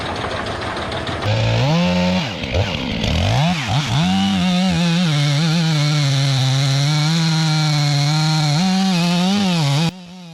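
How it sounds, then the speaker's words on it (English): A chainsaw roars loud and close, revving and bogging in waves while cutting down a towering tree just meters from a roof, running almost continuously before cutting off near the end. "A towering tree, just meters from the roof, is being brought down piece by piece under the roar of a chainsaw."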